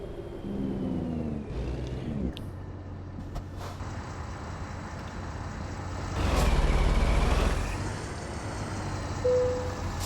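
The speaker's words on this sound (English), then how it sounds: "I think it's kind of weird to hear your truck shifting like an automatic" A heavy truck engine in American Truck Simulator drones steadily while shifting gears like an automatic. The low rumble dips and rises as gears change, with a louder surge midway, and no voices over it.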